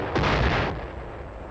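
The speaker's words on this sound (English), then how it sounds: "And so, a howitzer lets one go." A single howitzer fires an artillery shell with a loud deep boom that rolls off into a fading rumble, with no voices.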